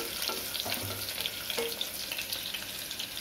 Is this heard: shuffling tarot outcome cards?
no